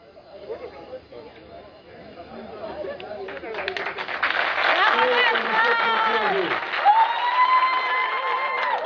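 Applause and cheering from a village crowd at a political visit in Gabon swell up after a few seconds of murmuring voices, with people talking over the clapping throughout.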